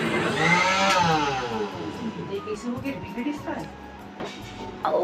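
A mixer grinder grinding urad dal whirs and whines with a rising then falling pitch, steady and close, while people talk over it.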